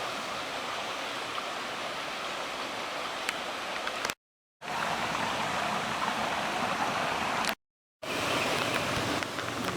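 Oakland Run stream rushing through a rocky gorge along the Mason-Dixon Trail, a steady, loud broadband wash of flowing water, cut by two brief gaps of silence.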